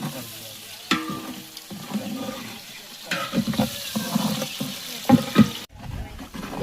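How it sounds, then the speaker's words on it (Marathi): Onions frying in oil in a pan, a close, continuous sizzle with repeated scraping and clinking stirs and a few louder bursts of crackle, no one talking. "कांदा चांगला भाजून घ्या"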